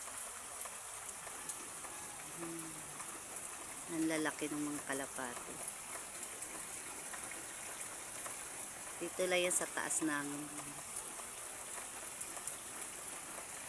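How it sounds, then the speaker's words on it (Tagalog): Steady typhoon rain hisses over everything, a constant dense patter, while a person speaks briefly twice in Filipino over it. "Naliligo sila sa ulan. Ang ulan ay hindi tumitigil"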